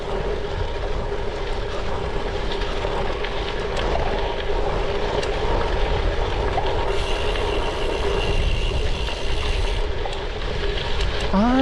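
A train rumbles past a railway crossing at Viduklis in Lithuania on a gravel ride, a loud continuous roar with a steady tone and a brief higher whine toward the end, no talk.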